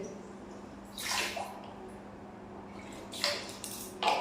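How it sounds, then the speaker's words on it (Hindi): Hot water mixed with Savlon antiseptic splashes into a bucket in two short bursts of pouring, separated by a quiet pause, close by with a low steady hum underneath. "मैंने गर्म पानी ही है 2 डिब्बों में ये ले लिया है, और थोड़ा सा मिला दूँ मैं इसमें सेवलॉन"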